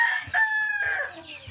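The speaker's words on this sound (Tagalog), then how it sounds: "Ang daming manok," A rooster crows up close in the Philippines, a loud strained cry followed by brief clucking from nearby chickens.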